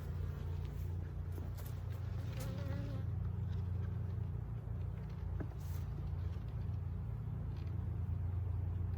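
Bees swarm busily around a hive, making a continuous dense buzz with individual bees whizzing past the microphone, close and steady throughout with a low hum underneath.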